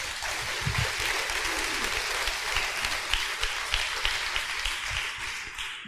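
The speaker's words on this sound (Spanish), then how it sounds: "Dele fuerte ese aplauso al Señor." Church congregation clapping loudly in praise during a Spanish-language sermon, a dense, sustained roar of many hands with low thumps underneath, steady and close, easing off near the end.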